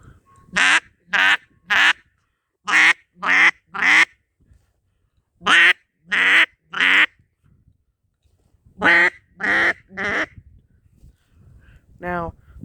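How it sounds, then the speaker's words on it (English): Repeated sets of three crisp quacks blown on a double reed duck call, close and loud, separated by short silences, with one fainter call closing the run. "Now, that's what the quack sounds like."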